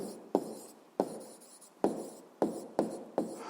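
Pen or pencil writing on paper makes a series of short scratchy strokes, about six distinct bursts with brief pauses, close and quiet, with no talking.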